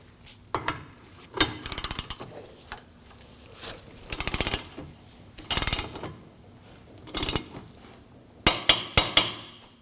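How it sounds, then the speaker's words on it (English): A torque wrench tightens the lower rear strut bolt of a 2016-2022 Honda Pilot to 132 foot-pounds, heard as six close, loud bursts of rapid ratcheting clicks separated by short pauses, with no voices. "We'll torque our lower strut bolt to 132 foot-pounds."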